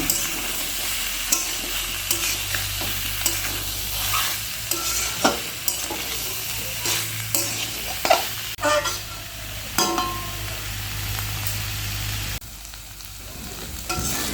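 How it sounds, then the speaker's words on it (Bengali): Papaya, potato and soybean chunks with spices are stirred and fried in a pan for a vegetarian dish, a continuous sizzle broken by repeated scraping and clacking spatula strokes, close and fairly loud, with no talking. "পেঁপে আলু আর সয়াবিন সব কিছু আমি এখন এখানে দিয়ে আরও কম কষে নেব মশলাটার সঙ্গে একসাথে মিশিয়ে"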